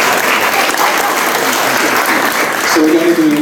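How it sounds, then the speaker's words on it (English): Sustained applause from an audience at a lightning talk session: dense, steady clapping fills the whole stretch, with a brief voice emerging near the end. "can you please give a small round of applause for my designer for his beautiful slide deck?"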